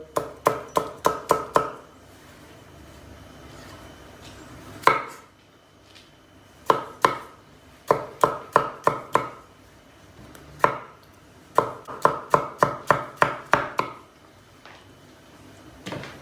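Rapid bursts of a knife chopping a chili pepper on a cutting board, quick rhythmic taps in clusters separated by short pauses, close and crisp.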